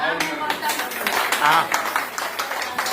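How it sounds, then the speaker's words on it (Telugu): An audience clapping in a group on a pilgrimage trip to Puri, with scattered hand claps under someone speaking loudly over them. "చప్పట్లు కంటిన్యూ చేయండి"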